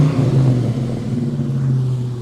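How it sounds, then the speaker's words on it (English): A 1936 Plymouth Coupe hot rod with hand controls rumbles at idle, its engine giving a low, throaty, steady drone with a slight rise in revs, close and fairly loud, alone without voices. "rev her for me."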